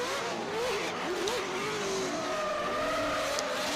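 A 700-horsepower race car at a Kern County Raceway motorsport event screams at high revs in one continuous loud, wavering wail, with the pitch bending up and down as the engine is pushed hard.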